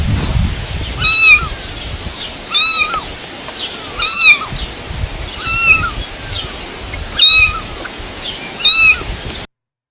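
A kitten meows repeatedly from a played video, six evenly spaced high, plaintive cries about every one and a half seconds, loud and clear over a faint background.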